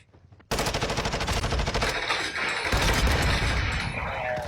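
Rapid automatic gunfire from a first-person shooter video game, a dense sustained burst of shots that starts abruptly after a brief quiet moment and continues loudly to the end.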